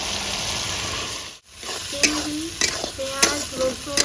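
Tomato and ground spice paste fry in a pan under a bright sizzle, briefly muffled for a moment, then spatula strokes scrape and clatter repeatedly through the hot oil.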